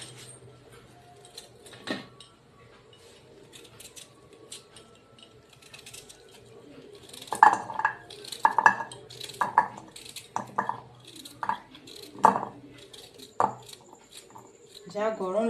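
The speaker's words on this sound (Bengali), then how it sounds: "তো এখন আমি গাজরগুলো কেটে নেব।" A knife cuts carrots into pieces with irregular sharp taps, sparse and soft at first, then a quicker run of louder chops in the middle before easing off.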